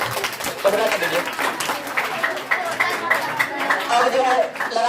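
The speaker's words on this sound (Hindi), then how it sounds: "इन सब के लिए एक बार ताली बजा दीजिए" Students in a Class 9 classroom clap together in a brief round of applause, a dense patter of hands lasting several seconds with a voice talking over it.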